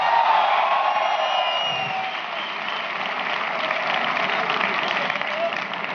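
An audience at a stage event in India claps with some cheering, loud at first, then settling into a steady, sustained round of applause.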